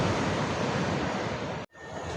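Broadband wash of sea surf at the Kalutara river mouth, Sri Lanka, rolls steadily, then cuts out abruptly for an instant before resuming more softly.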